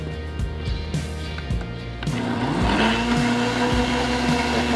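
A kitchen blender whirs steadily for chimichurri sauce, its motor rising in pitch and growing louder partway through and then holding a constant, close, droning whine.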